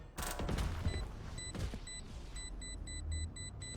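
Rapid gunfire from a Valorant match, several bursts of shots in the first two seconds followed by clicking weapon mechanisms and sharp electronic interface tones, all fairly close and loud.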